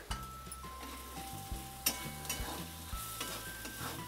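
Garlic, ginger and onion frying in a pan with a pinch of asafoetida and turmeric, a steady close sizzle broken by repeated scraping stirs, with a faint steady tone humming underneath.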